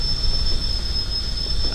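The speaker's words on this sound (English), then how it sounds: "Is that another train I see ahead?" A train on the railway runs alongside during a diesel railtour with a steady rumbling roll, a faint high squeal and a thin whine. The noise stays even and moderately loud for under two seconds, with no voices.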